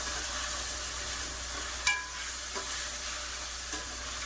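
Mutton frying in a pan with softened onions gives a steady, even sizzle, with a few soft scraping stirs of a spoon standing out now and then.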